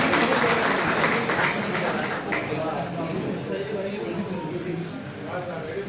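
Applause fills the hall at an Engineer's Day event honoring Sir Mokshagundam Visvesvaraya, welcoming an engineer guest; steady, dense clapping from a crowd runs throughout.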